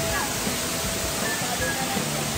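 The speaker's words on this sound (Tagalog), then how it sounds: "ang ganda ng falls dito" Daranak Falls in Tanay pours in a constant, dense roar of rushing water, loud and broadband, with a voice partly audible over it.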